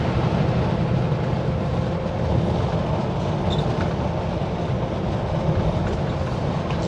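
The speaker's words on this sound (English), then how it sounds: "Train. Oh yeah. Looks like grain. Full of grain headed to the coast." A freight train loaded with grain rolls past with a steady, close rumble of wheels and rail cars that continues without pause.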